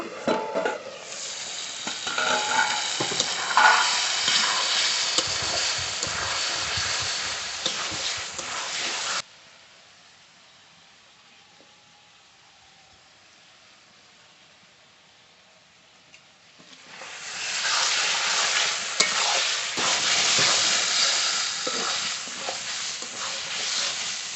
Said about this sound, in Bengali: ঢেকে দেবো ঢাকনা তুলে মাংস নেড়ে দেবো